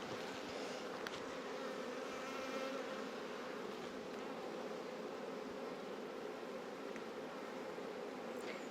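A steady, dense buzzing of many honey bees close by at a hive, continuous and unbroken throughout.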